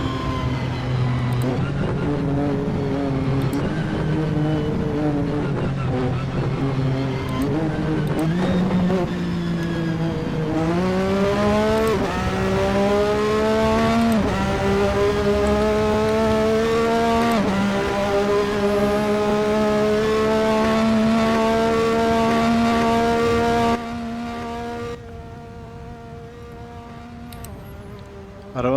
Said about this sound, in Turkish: Arada çok güzel patırtı çatırtılar geliyor